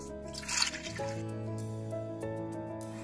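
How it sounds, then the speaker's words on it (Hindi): About half a jug of water is poured into a pressure cooker holding dal and bathua greens, giving a soft trickling, splashing pour that settles into a quieter steady flow. "बथुए में हमने एक हाफ जग पानी भी डाल दिया है।"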